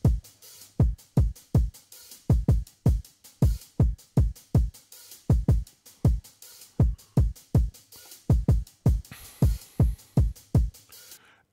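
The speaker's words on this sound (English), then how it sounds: "So the drums took me a while to do." Programmed kick drum beat from Easy Drummer in FL Studio, deep punchy thumps in a repeating swung groove with faint hi-hat ticks, steady and alone.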